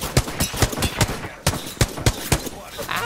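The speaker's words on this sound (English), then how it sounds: "who's shooting me from the other side?" Gunfire in the video game Apex Legends, sharp shots ringing out in an irregular rapid burst pattern, loud and close, about a dozen reports over a few seconds.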